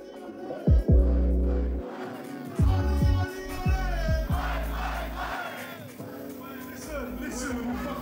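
A concert crowd in London cheers, whistles and shouts in loud bursts that swell into a sustained roar, with a few sharp individual yells rising above the din.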